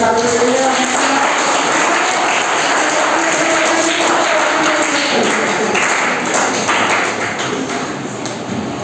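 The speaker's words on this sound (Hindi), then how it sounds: "जोर से ताली बजाइए।" Loud, dense applause from a school audience at a health and Ayurveda program at a high school in Barhi, Hazaribagh, with continuous sustained clapping filling the whole stretch and fading slightly at the end.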